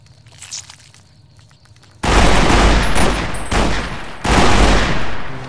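Loud gunfire from a modded weapon in Fallout: New Vegas, three heavy blasts of sustained automatic fire after a quiet start, each burst booming and close.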